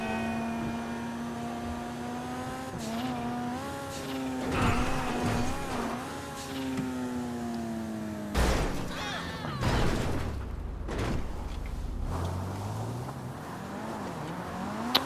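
Car engine in GTA Online revving and shifting through gears, pitch climbing and dropping repeatedly, with a few sharp bursts and a tire squeal partway through.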